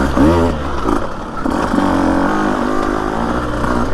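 A Husqvarna TE150 dirt bike climbs single track near Florence, Arizona, its two-stroke engine buzzing loud and close with rising and falling revs and rattling clatter as it works uphill.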